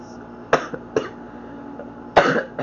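Three or four dry coughs sound close by, spaced out with quiet room noise in between.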